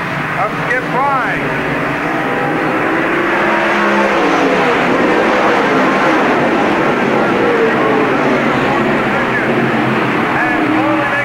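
Stock cars in a 1997 NASCAR Busch All Star Tour race at Park Jefferson Speedway roar past in a loud, dense wash of engine noise, with motors revving and sweeping by throughout and voices talking under the din.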